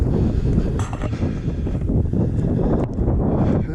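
Strong wind buffets the microphone outdoors at the Arabia ghost town in Nevada, a loud steady roar with gusty rumbling throughout.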